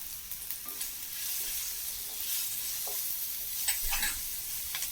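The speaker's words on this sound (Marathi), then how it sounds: "आता हे मी चांगलं परतून घेतो." Onion, tomato and spices sauté in a pan, making a steady soft sizzle with occasional stirring scrapes. The sound is close and fairly quiet, and no one talks.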